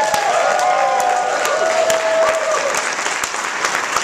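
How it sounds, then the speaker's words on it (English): A crowd at a ReaderCon 2011 convention show applauds a dancer with dense, sustained clapping, loud and close throughout, while a faint voice and some tonal sound carry underneath for the first part. "let's give a round of applause to our dancer"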